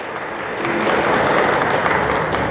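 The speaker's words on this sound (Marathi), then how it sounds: "आपण त्यांच्यासाठी एकदा जोरात टाळ्या वाजूया" A church congregation at a Sunday missionary service at Khadki Marathi Methodist Church claps for the pastor in a dense, steady wash of applause that swells slightly after the opening half-second and holds loud to the end.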